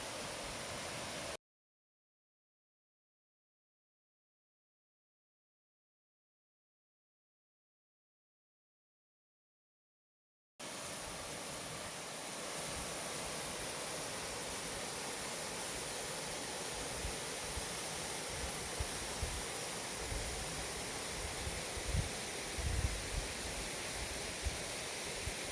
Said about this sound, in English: there's our little waterfall we're walking next to